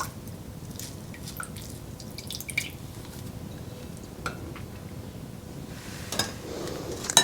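Liquid drips from a hand-squeezed elderflower mixture strained for homemade elderflower champagne, a faint scattered patter of drops with a few louder splashes near the end.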